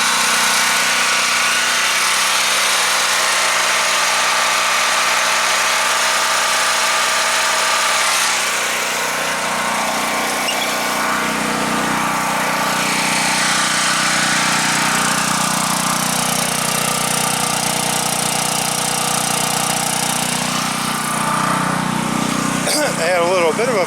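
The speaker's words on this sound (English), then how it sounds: "Generators running like a camp." A portable generator runs steadily at close range during a multi-day power outage after East Texas storms, a continuous mid-pitched engine drone that shifts slightly in tone partway through, with a brief knock near the end.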